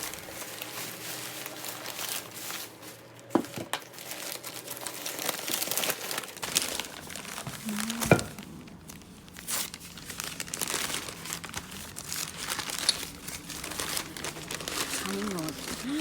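Paper rustles and crinkles close up as Benjarong teacups from Chatuchak market in Bangkok are unwrapped, with scattered crackles and light taps under intermittent talk.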